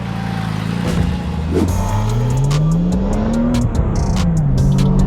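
A race car engine revs hard and climbs in pitch as it accelerates on a track, loud and close, with a steady roar of wind and road noise.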